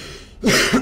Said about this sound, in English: I always need to take a break and cough my life out